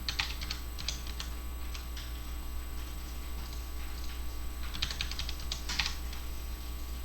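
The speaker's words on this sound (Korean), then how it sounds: "윈도우 키를 누르고 방향키를 한 번씩 눌러보세요" The Windows key and arrow keys on a computer keyboard are pressed in scattered bursts of clicky taps over a steady low background hum, with no one talking.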